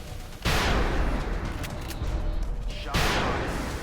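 Rapid-fire gunshots in the video game XCOM Enemy Within come as two loud, dense volleys that start abruptly and roll on as a continuous roar of rattling fire.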